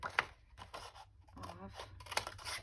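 Scissors cut paper for a file folder in a few short, crisp snips, spaced apart and heard close up under quiet talk.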